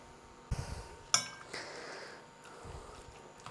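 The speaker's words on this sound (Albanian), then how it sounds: "Vazhdojmë që ta përzihem edhe t'i shtypim." A spoon mixing and mashing an eggplant meatball mixture with kashkaval cheese and garlic in a bowl, a few quiet utensil clinks against the dish and soft scraping in an otherwise calm kitchen.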